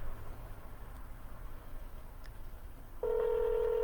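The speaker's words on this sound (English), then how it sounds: "I'm going to call that first number back now and see if he picks up the phone." A telephone dials out for a call: after a few seconds of faint hiss, a clear, steady dial tone starts and holds to the end.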